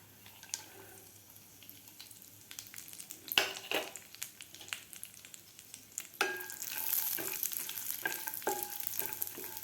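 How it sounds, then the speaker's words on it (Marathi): Coconut slices, cashews and almonds frying in ghee: a quiet sizzle with scattered spoon clinks and stirring scrapes, growing louder and more crackling toward the end. "आता तुपामध्ये आपल्याला अगोदर खोबऱ्याचा काप काजू आणि बदाम थोडेसे फ्राय करून घ्यायचे आहेत"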